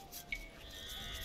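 A sheep in the video game Age of Empires gives a brief, faint bleat over a soft continuous background hum, with a small click near the start.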